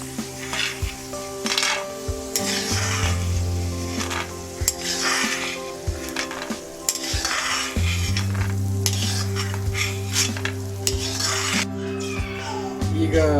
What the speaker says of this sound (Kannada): ನಾವು ಹಸಿ ಶೇಂಗಾ ಹುರ್ಕೋಬೇಕಾಗೈತಿ